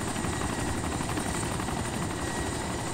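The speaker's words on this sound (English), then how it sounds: "Osprey's back." A tiltrotor Osprey aircraft in the Arma 2 video game drones with a loud, constant rotor roar that fills the whole stretch without pause.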